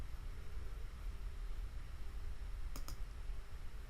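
Two quick mouse clicks on a computer while a Power BI map is being navigated, crisp and close, heard alone over a steady hiss of background noise.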